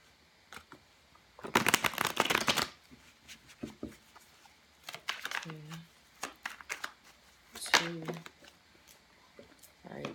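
Tarot cards are riffled in a quick papery burst, followed by softer handling taps and shuffling sounds, with a voice murmuring intermittently.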